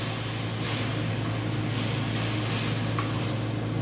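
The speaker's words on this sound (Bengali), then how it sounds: "ভালো করে নেড়ে নেব।" Food simmers in a pot on a low gas flame after water is added, giving off a steady hiss and bubbling, with soft scrapes of stirring heard close up.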